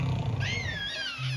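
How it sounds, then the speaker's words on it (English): A dinosaur roar effect in a children's song: one brief rising and falling growl lasting about a second, moderately loud over a low musical backing. "Your dinosaur roars."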